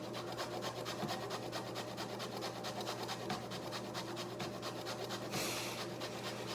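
Someone grates food against a hand grater braced at the hip, producing a quiet, close, rapid rhythmic rasping that continues steadily under a faint background hum.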